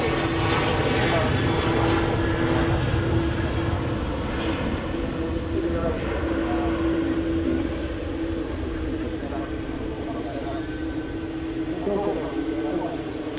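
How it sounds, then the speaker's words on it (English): A TUI Boeing Dreamliner taxiing at Manchester Airport gives a steady, droning jet engine rumble with a faint whine, heard at a distance and partly under talk. "And the TUI Dreamliner taxiing past to Tenerife"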